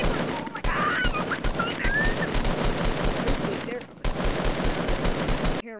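Rapid, loud bursts of gunfire fill a video game match, nearly continuous with a brief gap, while a voice speaks over it.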